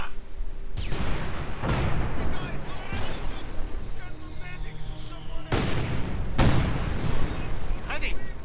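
Mortar and artillery barrage in Company of Heroes 2, with repeated heavy booms and blasts rolling through a dense battle din, loud and close, while a commentator talks over the action.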